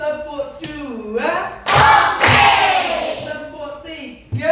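A fifth-grade class at an Indonesian elementary school claps in unison for a morning ice-breaker: two loud, sharp group claps about half a second apart, with children's voices chanting before and after.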